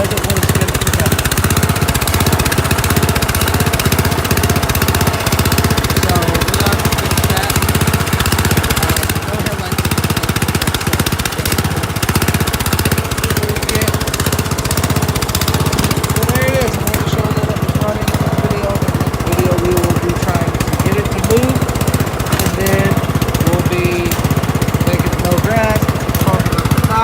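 A very old lawn mower engine with a carburetor fault runs roughly, a loud, near, uneven chugging and knocking that continues throughout, with a voice speaking over the noise.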